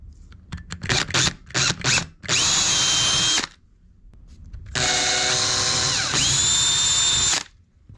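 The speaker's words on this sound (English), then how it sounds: "I'm going to take my drill, I'm going to drill right below the mark." A power drill whirs in short bursts, then runs in two long, loud stretches close by, its pitch shifting slightly as the bit bites into the wall.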